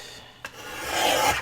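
A sheet of paper is trimmed in a papercraft project, giving a quick snap and then a rising rasping scrape of a blade cutting through it, close and alone.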